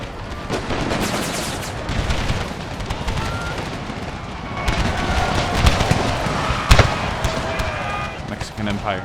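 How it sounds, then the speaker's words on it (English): Musket volleys from massed soldiers in the Empire: Total War American Civil War mod, rolling crackling gunfire with sharp cracks over a busy battle bed, while someone talks over it. "Some very good gunning here from the Imperial regulars."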